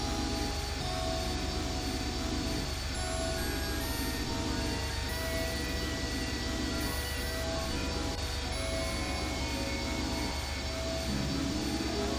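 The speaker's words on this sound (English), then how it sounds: "The engine's starting up again." A huge engine in the video game I Have No Mouth And I Must Scream starting up, a dense, steady, loud roar with a low rumble that runs unbroken throughout.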